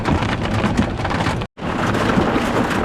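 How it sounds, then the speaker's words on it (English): Heavy rain pours down after a hailstorm in a steady, dense hiss of drops drumming on surfaces, with only a brief cut in the middle. "we still got a lot of rain, and the rain's coming down a little harder now"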